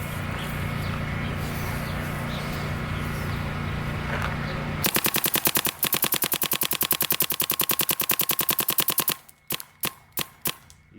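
A GEO 4 paintball marker fires in a long rapid stream of sharp, evenly spaced pops, close and loud, after a stretch of steady background noise, then finishes with a few slower separated shots.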